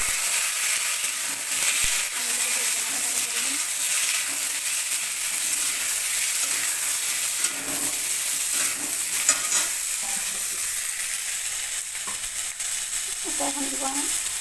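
Raw mango pieces frying in hot mustard oil with bay leaves and green chillies, a loud continuous sizzle with occasional stirring scrapes, close and steady throughout.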